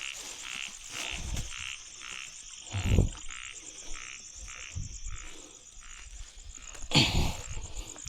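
Frogs croaking in a rainy forest at night, with a steady run of rhythmic croaks close by, a few louder splashy knocks, and a constant high trilling chorus behind, with no talking.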